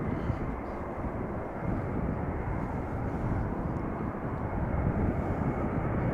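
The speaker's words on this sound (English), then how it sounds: "we have an A330 coming this way" Airbus A330-300 jet approaching the runway at Schiphol Airport, a continuous, steady engine roar with low rumble that holds at an even loudness throughout, no other sounds standing out.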